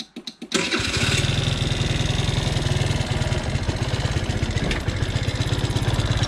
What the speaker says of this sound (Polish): Odpalimy tego sprzęta i przejedziemy się tym skuterem.